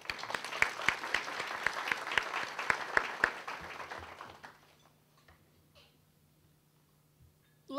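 At a college executive leadership breakfast, an audience gives brisk, close applause for about four seconds, then it thins out and fades into a quiet room.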